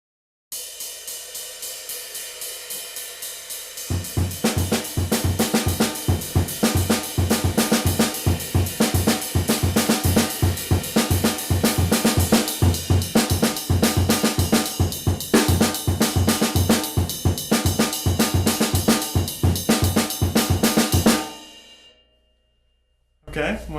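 Full drum kit groove with the right hand riding the ride cymbal, an exercise pattern from a solo; a dense steady cymbal wash over regular kick and snare hits, loud and close, running alone for about twenty seconds before stopping.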